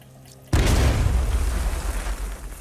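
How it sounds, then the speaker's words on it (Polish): In the video game Batman: Arkham Knight, explosive gel detonates: a sudden deep boom erupts after a brief quiet moment, followed by a rumbling, crackling decay that lingers. "Żel wybuchowy."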